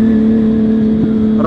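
An older naked motorbike engine holds a loud, steady idling drone close by, rising slightly in pitch near the end as the throttle is blipped.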